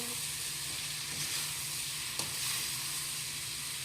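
Dry capsicum vegetable sabzi being mixed in a hot pan, producing a steady sizzling hiss with occasional soft stirring scrapes, close and continuous.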